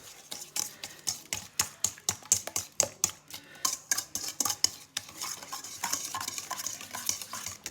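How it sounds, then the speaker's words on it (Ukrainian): Eggs and sugar whisked for pancake batter, a steady run of quick, close scraping clicks of the whisk against the bowl, rhythmic and fairly loud, with no voices. "Добре збиваємо, щоб цукор став."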